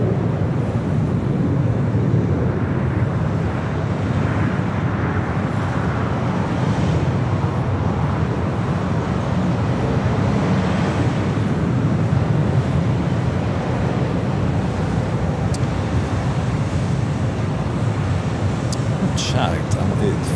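A Boeing 747 jet taxiing at LAX airport, heard as a steady, broad, low rumble that continues for the whole stretch with no clear breaks. Voices may be present underneath the engine noise.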